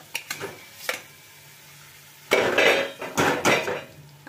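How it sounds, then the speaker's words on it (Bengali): Boiled potato mixed with coriander leaves in a pan, with a spoon tapping and scraping the metal in a few quick knocks, then a pause, then longer, louder scraping strokes, close by and with no talk. "আর ভালো করে ধনেপাতার সাথে এই আলু সেদ্ধটাকে আমি মিশিয়ে দেব।"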